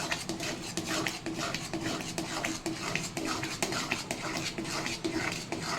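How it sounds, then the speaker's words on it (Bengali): A sandesh mixture of Gobindobhog rice and milk powder is stirred in a pan with quick, rhythmic scraping strokes of a metal spoon against the metal, loud and close, repeating steadily throughout. "এবার গুঁড়ো দুধের সাথে ভালো করে নেড়ে চেড়ে মিশিয়ে নিচ্ছি।"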